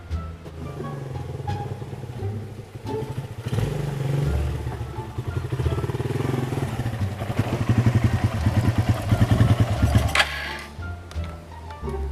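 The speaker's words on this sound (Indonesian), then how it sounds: "Oh, motor." A motorcycle engine idles and revs nearby with rattling clatter, the rough mechanical drone rising and falling over about twelve seconds.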